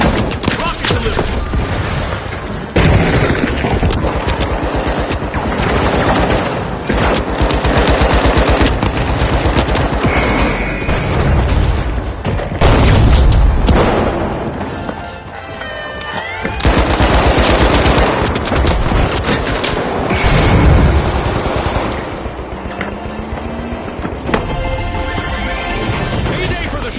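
Heavy, sustained gunfire and explosions in The Finals, with rocket blasts and machine-gun bursts running densely through the stretch while an announcer-style voice talks over the chaos.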